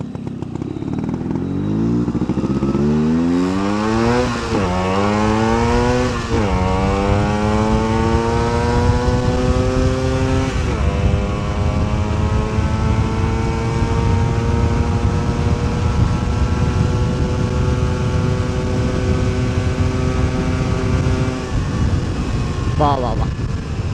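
A Yamaha RX motorcycle with its stock silencer, started after sitting for fifteen days, runs loud and close, its two-stroke engine revving up and down repeatedly before settling into a steady idle.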